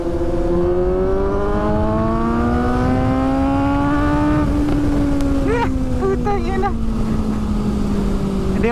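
A motorcycle engine revs and accelerates steadily during a test ride, its rising whine constant and close, with wind noise throughout.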